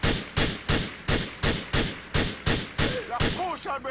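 Gunfire in Grand Theft Auto 4, a shotgun-style burst of about nine evenly spaced loud shots in roughly four seconds, with faint game voices near the end.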